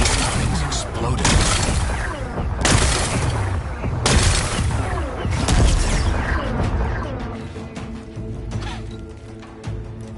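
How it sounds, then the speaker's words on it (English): Explosions blast away rocks in a video game, with dense repeated booms and crumbling debris in several loud bursts, then a lingering rumble and mechanical hum as things quiet down. "blast away some rocks, so I can expose the power cell"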